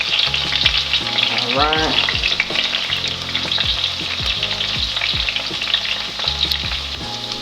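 Onions sizzle and fry in butter in a pan while a lobster pasta is cooked, a steady close crackle with stirring scrapes and a brief spoken word.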